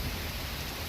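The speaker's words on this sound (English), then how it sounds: "the rain have fallen anyway" Rain falling hard on a riverside outdoor cookout in a storm, a dense steady hiss of rainfall filling the scene with no breaks.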